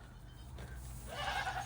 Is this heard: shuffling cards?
no